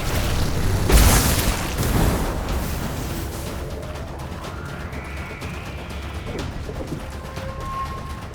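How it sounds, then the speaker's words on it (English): A building is destroyed in The Riftbreaker video game: one heavy, booming explosion rolls out and decays into a low rumble, with fainter game effects trailing behind. "A building has been destroyed."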